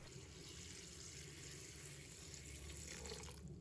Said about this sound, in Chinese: 再次倒入清水